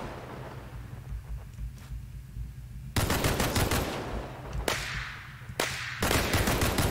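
A turret in a wasteland survival video game fires loud bursts of rapid gunshots. The bursts come in three clusters after a quieter stretch of wind-like noise.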